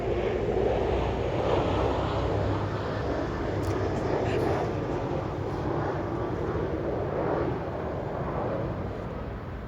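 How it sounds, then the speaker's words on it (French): Airplane passing overhead, a steady broad engine roar that holds at a constant moderate level throughout, distant and without talk over it. "j'ai à ce moment-là un avion qui passe"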